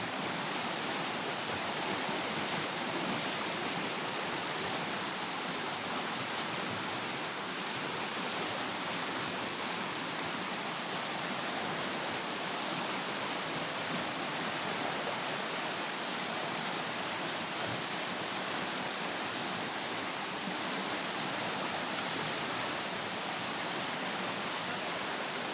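Water pours steadily at Bantimurung waterfall, a broad, continuous rushing roar with no breaks, close and even throughout.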